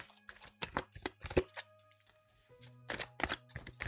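A tarot deck shuffled by hand, crisp riffling bursts of cards in quick clusters, close and fairly quiet, with no talking.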